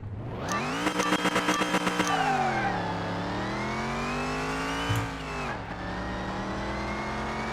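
A vintage hot rod engine in Car Mechanic Simulator 2021 revs loud and close during a race, a quick rattling burst of throttle giving way to a sustained rising and falling drone that dips sharply near the end.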